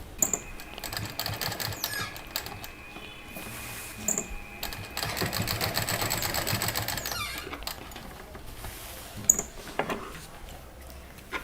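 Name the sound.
sewing machine stitching patchwork quilt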